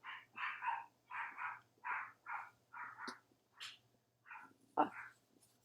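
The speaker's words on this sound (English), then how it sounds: "So that's why the dog is barking." Dog barking indoors at a neighbor kid at the front door: a run of about a dozen repeated barks in an even rhythm, then a pause and a few more, fairly distant and faint.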